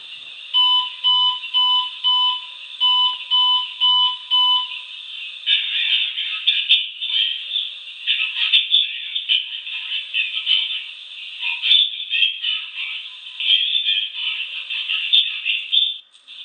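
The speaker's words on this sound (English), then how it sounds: "you're going to hear a voice evacuation coming from the SmartSync Truealert" A Simplex SmartSync Truealert fire alarm running a voice evacuation test, loud and high-pitched, opening with repeated beeping tones and then a continuous shrill evacuation message with no other talking.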